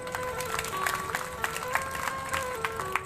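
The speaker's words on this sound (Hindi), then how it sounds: "जिसने किया उसके लिए ताली बजाओ।" An audience in a Bhagwat Katha pandal claps faintly in a loose, steady rhythm, heard at a distance beneath sustained instrumental tones.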